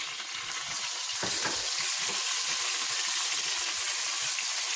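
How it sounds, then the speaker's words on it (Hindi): Tomatoes frying in a pan with ground ginger and garlic for chicken jalfrezi, giving a steady, close, loud sizzle with a brief burst of stirring near the start and no voices. "थोड़ा सा भूनने के बाद आप इसमें टमाटर डाल दें और"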